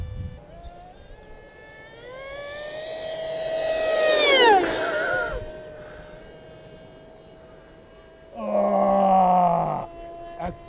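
An ME163 rocket-plane model jet on a 6S setup makes a rising, swelling whine as it passes close and loud, peaking then falling away, with a second shorter burst of buzzing near the end.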